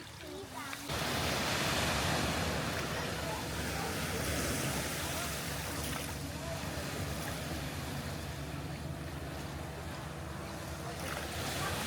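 Surf breaking at the edge of a beach in Lombok, a broad steady rush of waves with wind buffeting the microphone, heard up close.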